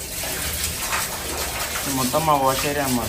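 Water gushes steadily from a bore valve tap in a wash area during fish tank cleaning, a continuous close rush running under someone speaking.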